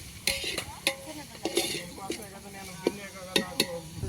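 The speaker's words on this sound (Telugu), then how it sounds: "చికెన్ ఇక్కడ వచ్చేసి కర్రీ అవుతా ఉంది, టమాటా ఎరగడ్డ ఫ్రై అవుతా ఉంది." Tomato and onion frying in a pan for a chicken curry, with a soft sizzle under repeated scrapes and clinks of a spoon stirring against the pan, faint and close.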